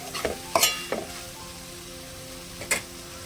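A spoon stirs okra lemon curry in a pan on a quiet stovetop, with a few short scraping clinks: a cluster near the start and one more near the end, over a faint low simmer.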